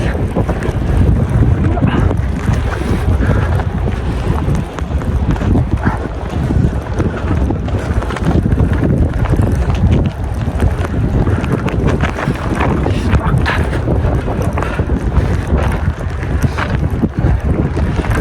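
Strong, continuous wind from a two-day snowstorm roars and buffets the microphone throughout, a loud broadband rush with gusty swells and no break.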